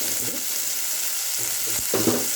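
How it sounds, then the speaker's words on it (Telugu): Lentils with masala frying in a pan, a loud continuous sizzle broken by stirring scrapes, heard alone. "ఇప్పుడు మసాలా పచ్చి పిచ్చిపప్పు పప్పు ఉంది కదా ఆ పిచ్చిపప్పు మనం ఈ పప్పు బాగా పచ్చివాసన పోయే వరకు వేసుకుందాం"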